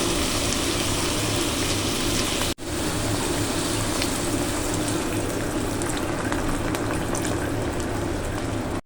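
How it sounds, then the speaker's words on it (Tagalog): Water is poured into a pan holding pork chops with ketchup and oyster sauce, giving a steady, close, bubbling hiss that runs continuously with two brief breaks. "At maglalagay tayo ng tubig."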